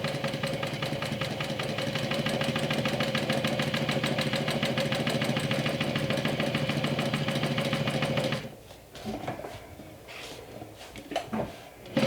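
A sewing machine runs steadily at speed while stitching vinyl accent pieces onto a bag, a loud close rhythmic whir for about eight seconds before stopping and giving way to quiet handling sounds.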